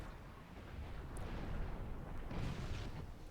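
Artillery fire in Supreme Commander 2 rumbles as a dense, continuous barrage of distant booms and blasts, layered and low, with no talk over it.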